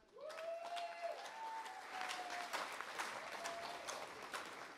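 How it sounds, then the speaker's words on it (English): Wedding guests at a small, intimate ceremony clap in a modest round of applause, moderately quiet and scattered, with a few soft cheers over the clapping. "So a round of applause for how everything looks."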